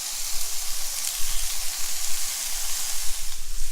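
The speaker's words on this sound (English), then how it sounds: "I'm just going to brown off these sliced onions. I'm going to throw some bacon on as well." Sliced onions and bacon browning in a pan give a constant close sizzle and hiss, with no voices.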